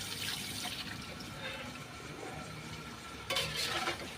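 A talakitok fish head is poured into a cooking pot, giving soft liquid sloshing and stirring with light clinks of metal cookware, ending in a brief louder splash, faint and close.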